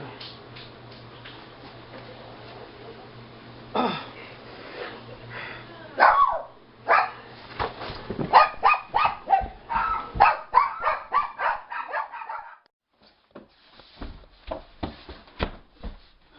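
Several dogs bark in sharp, irregular bursts, some yips overlapping, fairly close, with a quieter stretch of scattered barks toward the end.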